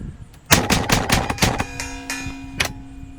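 Rapid-fire bursts from a high-speed air gun built for speed challenges, a dense string of sharp shots for about a second followed by scattered single shots and a ringing metallic tail.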